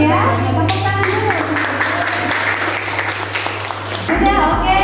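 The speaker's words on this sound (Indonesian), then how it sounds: "Tepuk tangan dulu" A classroom of students claps hands in a short, busy round of applause under a continuous hum, with voices talking over it and the clapping fading near the end.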